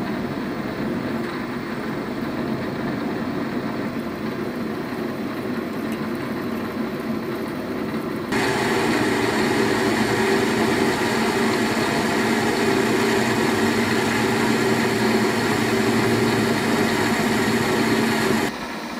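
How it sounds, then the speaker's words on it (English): A metal lathe bores out hot rolled mild steel, a continuous machine drone with a steady cutting hiss that grows louder and brighter partway through, then drops away at the end. "then boring them out to the right size"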